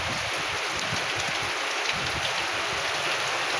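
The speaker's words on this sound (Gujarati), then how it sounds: "આ વરસાદનો બીજો રાઉન્ડ છે" Monsoon rain falls over farmland in Una taluka, a steady, dense, close hiss of drops that continues unbroken throughout.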